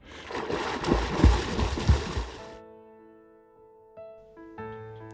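A person plunges into a backyard pond for a swim, a loud close splash followed by a couple of seconds of churning, sloshing water that fades out, then quiet with a few faint tonal sounds.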